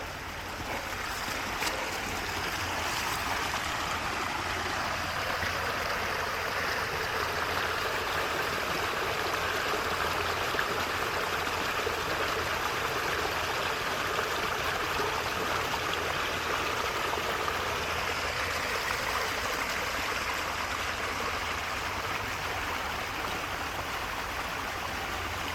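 Creek water flowing over a rock bed in the woods, a continuous close rushing burble that stays steady and loud throughout.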